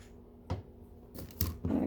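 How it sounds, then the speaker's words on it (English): A few crisp snips of scissors cutting through cotton fabric, close up, spaced unevenly across a quiet background. "get your scissors. Cut it off of there."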